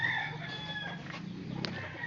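A rooster crows once, fairly close, in a quiet morning yard, the call ringing clearly with no talk over it.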